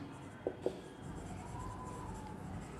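Pen writing out a maths proof on paper, faint scratching strokes with two sharp taps near the start, close and quiet, no voices.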